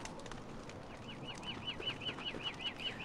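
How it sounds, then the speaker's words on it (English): Moose/Goose creature in Don't Starve Together calling amid game ambience, a regular series of about ten honking calls repeating steadily in the background, moderately loud. "This goose thing, though, it's crazy."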